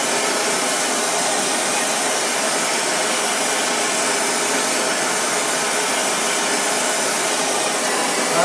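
A torch burns with a low, gentle flame while slowly heating metal grape vine elements, giving a steady, close, unbroken hiss that holds level throughout with no pauses.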